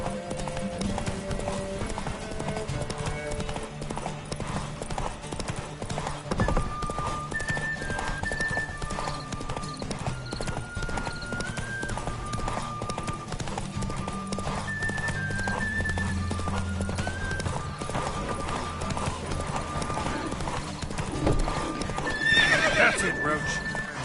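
Roach, the horse from The Witcher game, gallops with rhythmic close hoofbeats that run the whole time, and a whinny breaks out near the end amid game music and ambience.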